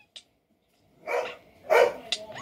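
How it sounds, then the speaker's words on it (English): Dogs in a video game give two close, sharp barks in quick succession, with a brief click before and a faint yelp trailing after. "Die, you dogs!"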